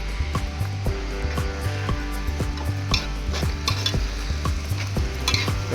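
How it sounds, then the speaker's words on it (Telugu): Onions frying with curry leaves in a pan, stirred in quick repeated scrapes over a bright, steady sizzle, close and loud with no talking. "ఇప్పుడు గోల్డెన్ బ్రౌన్ కలర్ వచ్చే వరకు మనం ఫ్రై చేసుకోవాలి అయితే కరేపాకు కూడా వేసుకుందాం ఒకసారి కలుపుకుందాం"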